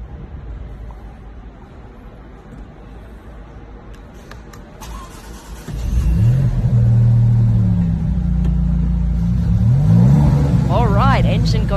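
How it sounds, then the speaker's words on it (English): A quiet background gives way to the deep engine of a 2020 Maserati MC20 sports car firing up, settling into a loud rumbling idle with a brief rev near the end; a voice talks underneath. "Engine goes on. First time hearing this new MC20. He's gonna rev it in just a second."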